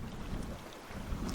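Wind on the Isle of Skye, a steady low buffeting roar across the microphone, fairly faint and alone, with no talk.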